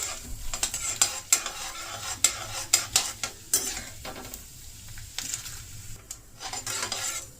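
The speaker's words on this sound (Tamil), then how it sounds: "நம்ம கடலை பருப்பும் உளுத்தம் பருப்பும் செவக்க இருக்கணும் இப்போ பொறிஞ்சிருக்கு" Chana dal and urad dal fry in a pan, with a steady sizzle under repeated sharp spatula scrapes and clinks as they are stirred, fairly close and with no voices.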